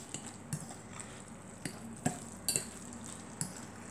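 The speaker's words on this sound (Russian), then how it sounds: "И все это очень просто перемешиваем" A vegetable frittata egg mixture being stirred in a bowl, giving intermittent soft scrapes and light clinks of a utensil against the bowl, fairly close and quiet with no talking.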